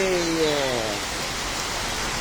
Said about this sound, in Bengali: খুব জোরে বৃষ্টি হইতেছে